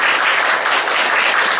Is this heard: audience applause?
yes